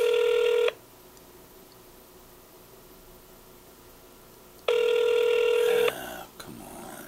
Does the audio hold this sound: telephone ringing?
yes